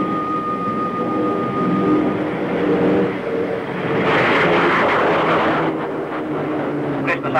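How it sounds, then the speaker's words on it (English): Shackleton and Canberra military aircraft taking off for an atomic test cloud-sampling mission, heard as a steady loud engine roar that swells around the middle, with no voices. "The Shackletons have already left, followed by the Canberras, four of which have been briefed to take samples of the cloud."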